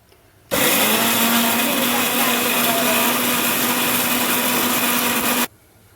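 Mixer grinder running steadily while grinding coriander stems for mutton biryani, a loud continuous whirring motor drone lasting about five seconds with abrupt start and stop, no talking.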